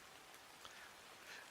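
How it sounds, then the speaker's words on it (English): Steady rain from the video game Princess of Worlds End, a soft, even hiss of falling drops with a couple of faint brighter patters, quiet and continuous with no voices. "And so does the rain, apparently."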